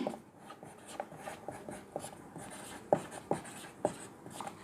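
A math equation is written out by hand, giving quiet, close scratching and scribbling strokes in irregular bursts with small taps, and nobody speaks.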